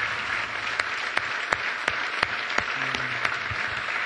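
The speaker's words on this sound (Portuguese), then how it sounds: "Dê um forte aplauso ao Senhor." A church congregation gives a sustained round of applause during a service, steady dense clapping with a few sharper individual claps standing out at regular intervals.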